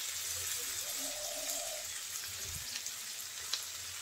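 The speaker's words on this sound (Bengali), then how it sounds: "চিংড়ি মাছ দিয়ে আরও কিছুক্ষণ ভেজে নেব" Shrimp and jute leaves fry in a pan, giving a steady, faint sizzle with a few soft clicks and light rustles throughout.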